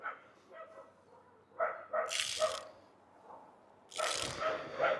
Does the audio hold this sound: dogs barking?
yes